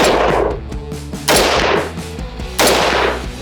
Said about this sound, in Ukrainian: Набої у нас натівські військові. Робимо три постріли.